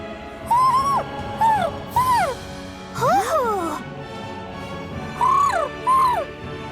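Owls in the video game Tales of Arise trade short, rising-and-falling hoots back and forth, loud and close, with several calls in quick succession and brief pauses between them.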